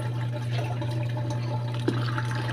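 Cold water is poured into a homemade laundry soap mixture for heavily soiled clothes, a steady close splashing and filling sound over a constant low electrical hum, with no talking.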